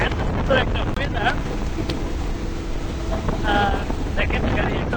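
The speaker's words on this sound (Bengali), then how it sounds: "বাতাস এবং এত সুন্দর একটা ওয়েদার।" Wind buffeting a car crossing the Padma bridge in Bangladesh, a constant loud roaring rush with road noise underneath and brief faint voices.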